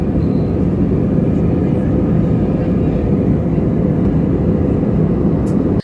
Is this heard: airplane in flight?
yes